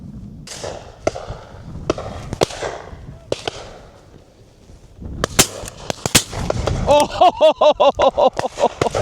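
Shotgun shots fired at driven pheasant and partridge on a UK shoot, a run of sharp close cracks with two quick barrels among them, followed by a rapid burst of clattering reports, with some voices in the background.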